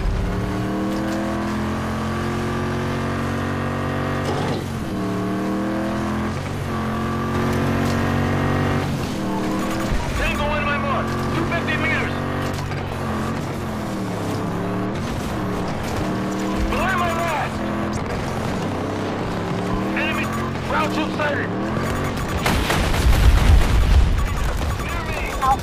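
An enemy vehicle drives in the video game Battlefield 2042, its engine droning with a steady tone that repeatedly rises and falls as it revs and shifts. Voices talk over it, and a rumbling crash comes near the end.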